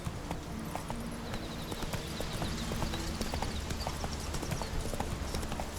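Horse hooves clip-clop at a steady ride pace in The Witcher 3 video game, rhythmic footfalls over a continuous outdoor ambience with faint game background sound.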